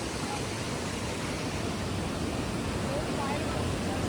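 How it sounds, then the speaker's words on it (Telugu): A large waterfall at a resort in Munnar, Kerala, roars as a broad, steady rush of falling water, constant and enveloping with no breaks. "ఆ పెద్ద వాటర్ ఫాల్"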